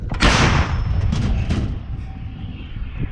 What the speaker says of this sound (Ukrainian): гармата вже зробила два постріли і зараз навелась уже на третю ціль